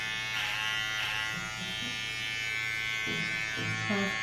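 Electric hair clippers buzz steadily through a home quarantine haircut, a constant close hum with slight shifts in pitch as the blade moves through hair, while a voice speaks briefly in the background.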